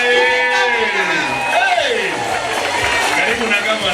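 Crowd at Governor Kiraitu Murungi's 2022 manifesto launch cheering and whooping, with loud rising vocal shouts over a continuous murmur of applause and crowd noise.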